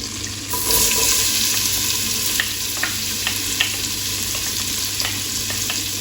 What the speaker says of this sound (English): that's starting to sizzle